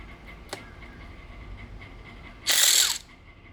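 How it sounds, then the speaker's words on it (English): A ratchet works on a stuck exhaust bolt on an Evinrude outboard, giving a short burst of close metallic clicking after a faint tap over a quiet background hum. "Let's see if I can get one bolt out."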